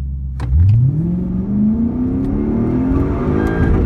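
A Lexus IS F engine roars as the throttle is floored for a launch, its pitch rising steadily in one long, loud, close acceleration pull.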